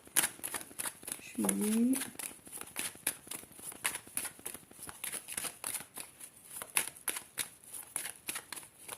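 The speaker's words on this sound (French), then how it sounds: "Je vais voir s'il y a d'autres cartes qui veulent sortir." Tarot cards shuffled by hand in quick, continuous riffling flicks and slides, close and fairly clear, with a short vocal sound early on.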